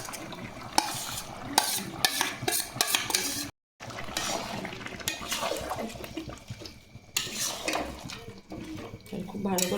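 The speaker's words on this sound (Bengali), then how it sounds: "সব মশলা ভালো করে এবারে চিকেনের সঙ্গে কষিয়ে নেব" Chicken for chicken Kolhapuri is stirred with a fried spice paste in a pan, giving steady scraping and sizzling with clattering utensil knocks. A brief silent gap falls midway.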